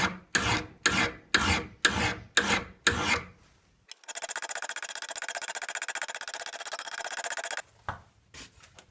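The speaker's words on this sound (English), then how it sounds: "I've heard these lips of material can be dangerous, so first thing I did was to file them off." Hand file rasping burrs of metal off a steel axe head, a series of about seven rhythmic strokes followed by a long continuous scraping pass and one more short stroke, close and alone.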